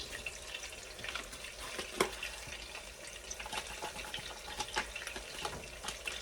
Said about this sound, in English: Added the water that is required in the gravy packet. I'm going to go ahead and dump that in there.